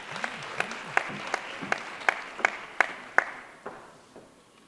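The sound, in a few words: audience applause welcoming a summit speaker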